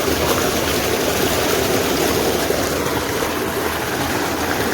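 Water gushes steadily from a farm tube well in a village field, a loud, continuous broadband rush with no pauses.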